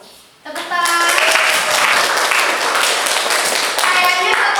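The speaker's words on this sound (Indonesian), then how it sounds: "Tepuk tangan" A classroom group of children bursts into hand clapping after a brief quiet start, a dense steady patter running to the end with voices mixed in.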